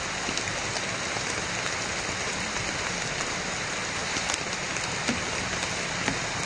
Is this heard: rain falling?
yes